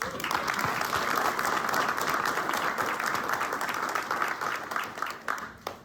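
A crowd applauds warmly, dense clapping that holds steady for several seconds before thinning out toward the end.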